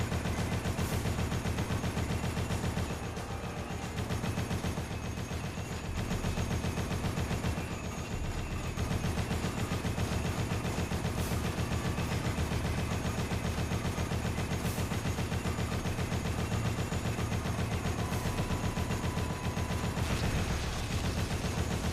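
Rapid gunfire in the video game Dead Rising, a dense, continuous barrage of shots with crackling bursts layered over a loud, steady game soundscape, with no voices.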